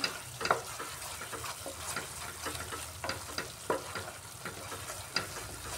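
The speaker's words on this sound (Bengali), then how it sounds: "মশলাটাকে ভালো করে কষিয়ে নিচ্ছি দইয়ের সাথে" Spice paste frying and sizzling with yogurt for an okra curry (doi bhindi), stirred in a pan with periodic scraping strokes over a steady, close sizzle, moderately loud, with no talking.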